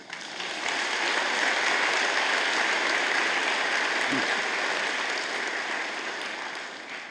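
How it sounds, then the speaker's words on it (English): A large crowd of graduates at a college convocation gives itself a round of applause, a broad, even wash of clapping that swells in quickly, holds steady and loud, then eases slightly at the end. "give yourselves a round of applause"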